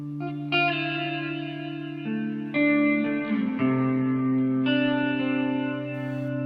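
Guitar notes played through a Meris Mercury X reverb pedal on its $5 Milkshake hall reverb setting, with long sustained chords swelling and overlapping as each new note blooms over a lingering, shimmering tail.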